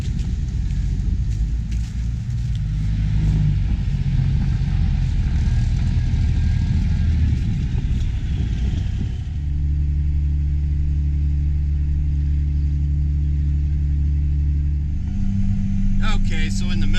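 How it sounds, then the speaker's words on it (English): A Chevy truck pulls a stuck Ford out of a muddy harvest field in Darke County, Ohio, its engine a heavy, close rumble that shifts to a steadier lower drone midway, with voices over it. "Chevy pulling out a Ford."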